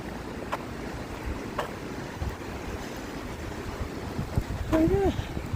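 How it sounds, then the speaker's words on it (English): A fast-flowing river far below an Appalachian Trail lookout rushes as a constant, broad roar mixed with wind buffeting the microphone, and a brief voice is heard near the end. "Nice, fast flowing river."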